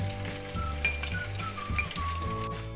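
Ginger and garlic sizzle in hot oil for a chicken karahi, a steady close crackling fry with faint stirring and a few light clinks, no voices.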